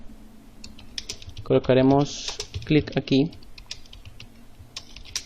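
Keys clatter on a computer keyboard as text is typed, a quick irregular run of light clicks continuing under a person speaking.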